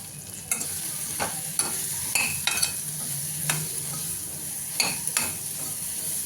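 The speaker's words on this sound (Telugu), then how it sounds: "వేసుకొని కొంచెం ఈ లోపల ఇవి వేయించుకుంటూ ఉంటే మనకి గ్రేవీ రెడీ అయిపోతుంది" Raw banana pieces and green chillies fry in a pan, a soft continuous sizzle broken by sharp scraping stirs of a spatula at irregular intervals.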